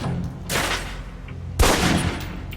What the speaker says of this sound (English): Equip the pistol, then aim down range and take some shots at the target.